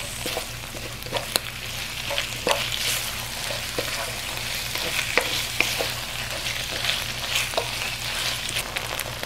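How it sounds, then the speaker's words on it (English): Red curry noodle soup with kaffir lime leaves cooking in a pot, a continuous sizzle with a string of sharp utensil clicks and scrapes from stirring, close and steady, no voices. "Add your kaffir lime leaves and continue to stir"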